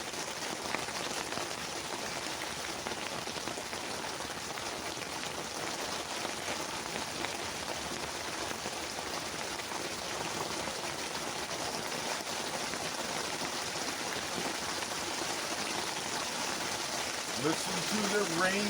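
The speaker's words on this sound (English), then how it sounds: "Listen to the rain coming down on the roof." Steady, dense rain pattering on a hot tent roof overhead, a constant hiss of drops with no voices, slightly louder near the end.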